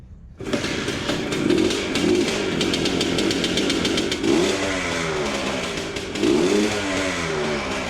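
An old two-stroke engine, pulled out after sitting in a shed for decades, starts and revs loudly nearby with a raspy, buzzing note, several throttle blips rising and falling over a steady rattling idle.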